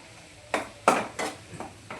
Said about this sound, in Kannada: ಚೀಸ್ ಹಾಕಿ ಎಲ್ಲ ಮಿಕ್ಸ್ ಮಾಡ್ತಾ ಇದ್ದೀವಿ